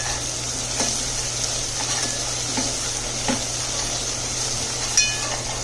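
A spice mixture for sambhar vadi sizzling in a pan while being stirred, a steady even hiss with occasional soft utensil scrapes and clinks, no talking.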